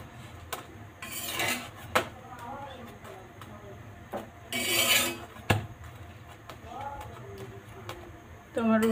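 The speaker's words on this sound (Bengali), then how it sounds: "তো রুটিটাকে উল্টে উল্টে ভেজে নেব" A roti is flipped and fried on a hot tawa: bursts of rasping and sizzling against the griddle with a few sharp taps, close by, while someone talks over it.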